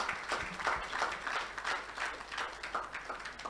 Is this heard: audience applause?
yes